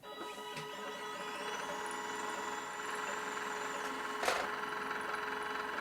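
A CNC guitar pickup winder spins coil wire at 1,200 RPM, a steady mechanical whir with a high whine and a few faint clicks, continuous and close throughout with no talk.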